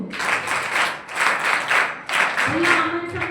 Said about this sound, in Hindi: भैया के लिए बड़ी ताली गुरु।